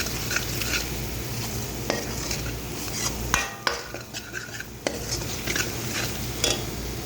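A spoon stirs spices in a pan for an achari mixed vegetable curry, with steady scraping, sharp metallic clinks against the pan and a soft sizzle, close and clear with no voices.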